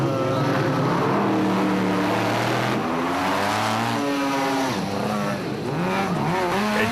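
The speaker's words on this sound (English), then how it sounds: "cars blasted off the line at intervals determined by the times they set on the Donaldson prologue" Off-road race cars roar away from the start line one after another at the Sun City 400 rally in 2010, with loud, continuous engine noise and revs climbing and falling as the cars accelerate onto a short tar section.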